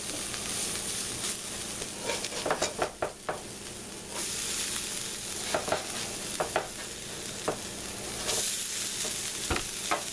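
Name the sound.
hash browns frying in butter in a pan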